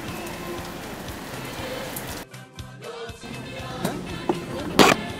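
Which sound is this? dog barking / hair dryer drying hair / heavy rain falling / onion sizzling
heavy rain falling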